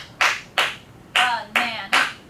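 A teacher gives five sharp, separate hand claps at an even beat to mark out the syllables of banana. A voice overlaps some of the claps.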